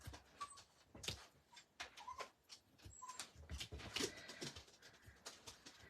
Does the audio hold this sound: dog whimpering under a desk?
yes